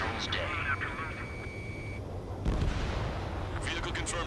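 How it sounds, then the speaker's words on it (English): Missile launch and explosions in an aircraft combat video game, with a whooshing launch and heavy booming blasts, a sudden loud burst midway, all under radio-style chatter and engine drone. "Strider 1, missile launched."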